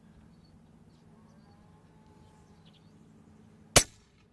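An Airmaks Krait air rifle fires an H&N pellet at 100 meters in unpredictable wind, a single sharp crack standing out against faint, quiet outdoor background.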